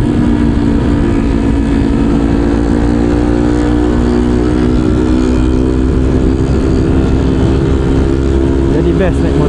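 A motorcycle on a group ride, among a 2012 Ninja 250, a Z250 and an MV Agusta, runs at a loud steady drone with a sustained even engine tone. Wind noise is heavy throughout.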